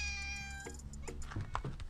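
A cat meows a drawn-out cry near the start, then a few softer mews and rustling, close by with no voices.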